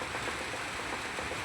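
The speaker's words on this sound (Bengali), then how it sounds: "এই দেখুন কিরকম বৃষ্টি পড়তেছে, প্রচুর বৃষ্টি।" Heavy rain falls as a dense, steady hiss that is moderately faint and continuous through a brief moment, with no talk.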